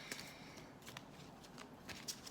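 Tarot cards shuffled and handled during a love card reading, with quick papery riffles and soft flicks in short bursts, close up and quiet, without voices.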